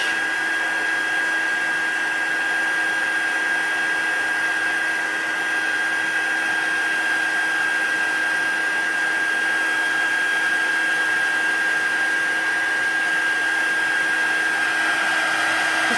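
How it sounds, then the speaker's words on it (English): An embossing heat gun blows without a break, a loud, steady, close whirring rush of air with a constant high whine and no pauses. "I like the old embossing gun better."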